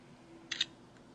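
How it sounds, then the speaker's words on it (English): A phone camera shutter fires once while a photo is taken, giving a short, crisp double click at moderate level against quiet room hiss. "Press the shutter button halfway to get focus. Press it all the way to take the photo."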